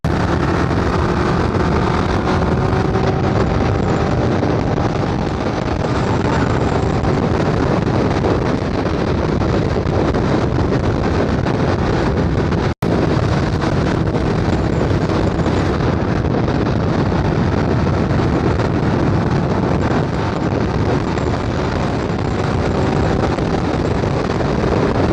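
A motorcycle runs at highway speed along a parkway in cold weather, heard as a loud, unbroken roar of wind buffeting the microphone for the whole stretch, with no distinct engine note standing out.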